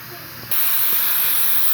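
Steam rushes out of a pressure cooker with its whistle removed, cooking sarson ka saag. A sudden loud, continuous hiss bursts in after a half-second of quieter kitchen sound and keeps going, close and steady.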